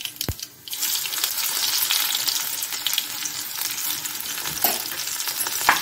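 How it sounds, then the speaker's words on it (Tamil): Garlic sizzling and crackling in hot oil, a continuous bright frying hiss with a few small clinks, close up and without talk. "அடுத்தது நச்சு வச்சிருக்கிற பூண்டை போட்டுக்குவோம்"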